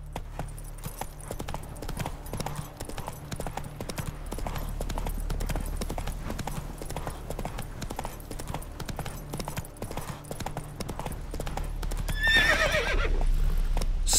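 Horse galloping in The Witcher 3 video game, a fast steady clip-clop of hooves throughout with a brief whinny near the end, close and loud, with faint talk.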